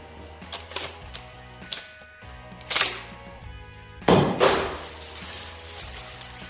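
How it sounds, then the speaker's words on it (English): An airsoft M203 grenade launcher mounted on a Double Bell M16A4 rifle is fired and handled, giving several sharp mechanical clacks and thuds, the loudest burst near the end, with a low musical background beneath. "we're going to go for the M203 launcher as well"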